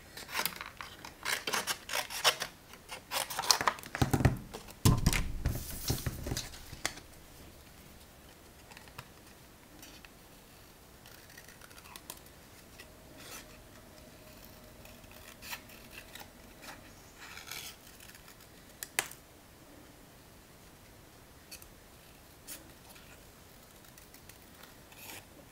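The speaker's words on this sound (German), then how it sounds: "Den schneide ich mir mit der Schere aus." Scissors cutting out a stamped paper card piece: close snipping and rasping paper strokes, busiest in the first seconds, then sparse quieter clips and rubbing over a low background.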